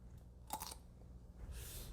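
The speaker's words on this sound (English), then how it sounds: "you tell me if the light or dark side of the pickle has a louder crunch" A crunchy bite into a pickle, one sharp crisp crunch near the middle, close and fairly quiet, followed by faint chewing and rustle.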